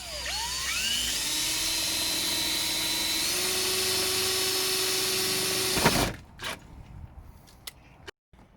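A drill whines loudly and steadily for about six seconds while boring out small rivets on the rear diffuser of a Ford Fiesta ST180, then stops, leaving a few faint clicks and knocks.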